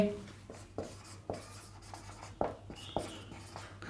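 Chalk or marker tapping and scratching on a classroom board during a grammar lesson, a series of short sharp strokes at an uneven pace, with a faint low hum underneath and no talking.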